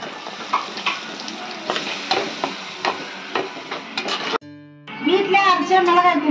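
Ground tomato paste is tipped into a pan of frying squid, drawing a loud, steady sizzle with scraping stirs; the sizzle briefly dips, then surges back louder and bubblier as the wet tomato hits the hot oil.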